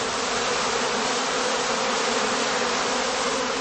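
Honeybees are shaken out of a heather skep, making a dense, steady, close buzzing swarm drone that holds at an even level throughout.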